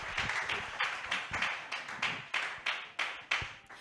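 Rhythmic hand clapping from a church congregation at a women's seminar evening service, steady repeated claps in unison, fairly close, with no voices clearly heard.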